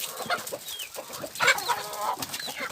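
Several chickens cluck and chatter in short, overlapping bursts at close range, with scattered higher squawks.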